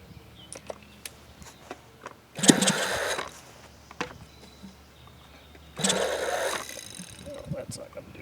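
A Moki 2.10 model engine, just fitted with new bearings, is turned over with an electric starter in two separate bursts of whirring cranking without catching, while a person talks quietly between them.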